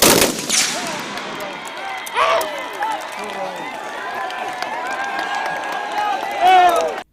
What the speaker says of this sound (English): it was now the legislators' turn to practice their shooting skills